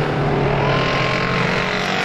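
Race cars circling Star Speedway during a heat race, a dense, loud roar of several engines blending together, steady throughout with a faint squeal of tires.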